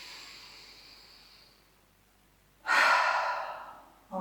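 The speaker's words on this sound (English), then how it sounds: "So inhale deeply through the nose. Open your mouth. Inhale." Deep cleansing breaths in a yoga class: a long, fading inhale, a pause, then a loud, forceful open-mouth exhale and the start of another, close and with no speech.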